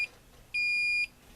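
A SUPCO VG640D vacuum gauge alarm: a short electronic beep followed by one longer, loud, steady high-pitched tone of about half a second, clean and close.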